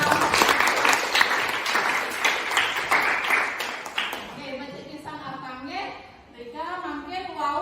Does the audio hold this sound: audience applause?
yes